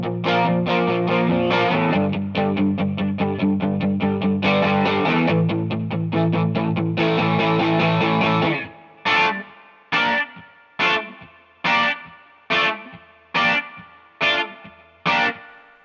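An electric guitar run through distortion and chorus effects plays the chorus of a song, with sustained chords for several bars, then a series of sharp, evenly spaced stabbed chords that ring out and decay.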